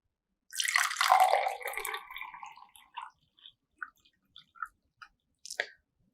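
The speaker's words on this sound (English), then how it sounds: "I'm going to pour some water." Water poured into a glass container for a school science demonstration, a loud continuous splashing stream that tapers off into a few scattered drips and small clinks.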